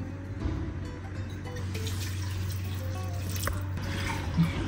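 Water is poured into rice in a pot for milk chicken biryani, making a continuous soft splashing and trickling stream with a few drips, close and moderately loud.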